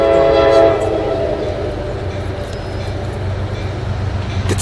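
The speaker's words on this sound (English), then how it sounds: "This is the train of Beacon." A train sounds a loud, sustained horn blast up close at Fort Montgomery, then rumbles past with a steady, heavy low roar of rolling wagons.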